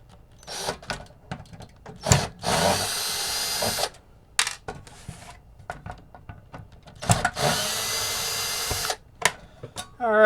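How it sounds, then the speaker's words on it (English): Power driver whirring in several short bursts as it backs screws out of a Nintendo NES console shell, close and loud, with quiet handling clicks between runs. "Take out our side screws."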